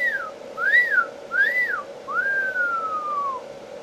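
A person on a back patio whistles a call imitating a Sasquatch cry: three short rising-and-falling whistles followed by one long, slowly descending note, clear and close.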